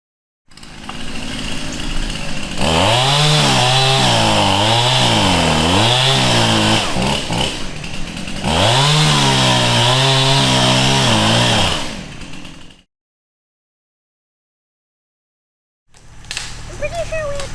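A chainsaw cutting through a wet tree during storm preparation on a homestead, loud and close, its engine revving up and bogging down in long bursts, then cutting out into silence before restarting briefly; voices can be heard faintly around it.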